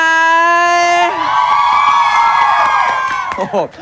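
A loud crowd of fans screams and cheers in a TV studio, high-pitched shrieks sustained throughout and fading slightly at the end.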